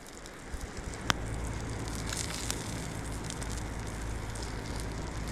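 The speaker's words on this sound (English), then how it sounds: "You can hear it sizzling there." Fatty food sizzles over an open fire outdoors in the Arctic, a steady broad hiss with a few scattered crackles and pops, fairly quiet and continuous, with no voices.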